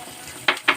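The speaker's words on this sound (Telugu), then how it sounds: "ఈ పచ్చిమిర్చి ఆయిల్లో వేగేలోపు" Green chillies fry in hot oil with a quiet sizzle, then two quick bright scraping bursts as they are stirred in the pan.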